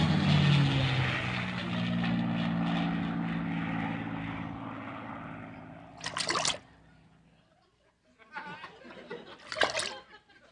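A propeller airplane engine drones loudly and steadily for several seconds in a 1968 Red Skelton Hour comedy sketch, then fades away. Short bursts of noise follow in a quieter stretch.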